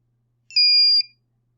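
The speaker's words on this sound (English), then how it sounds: "the buzzer going on for half a second" A single electronic buzzer driven by a microcontroller pin sounds one steady, shrill beep lasting about half a second, close and clear, with silence before and after.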